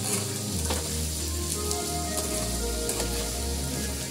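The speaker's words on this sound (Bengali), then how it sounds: "টমেটো পেঁয়াজটা আমি ভেজে নেব" Tomato and onion fry in oil, giving a dense, even sizzle close up with a low rumble beneath and occasional soft stirring taps, no voices.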